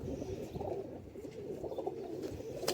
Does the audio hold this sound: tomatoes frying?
no